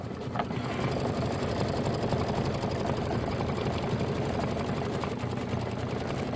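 An embroidery machine stitches leaf placement lines on a Kimberbell pillow project, a steady, close mechanical whirring and rapid needle chatter running unbroken throughout.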